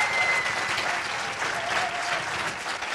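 Sustained audience applause at a healthcare training brunch at the Red Cross centre in Tours, a steady wash of many hands clapping for three seconds, fairly loud and even, with no talk over it.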